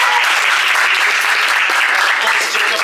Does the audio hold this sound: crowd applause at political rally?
yes